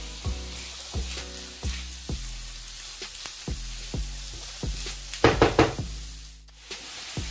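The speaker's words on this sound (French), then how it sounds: "je vais rajouter mes lardons. Et je vais leur faire cracher leur gras." Lardons frying in a pan after sweated onions for tartiflette, a steady close sizzle broken by regular knocks and stirring taps, with a louder crackling burst near the end.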